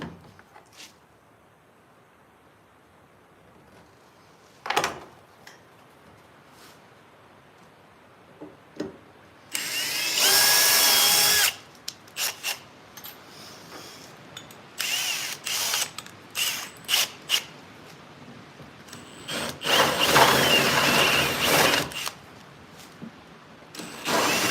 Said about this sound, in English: This fucking drill.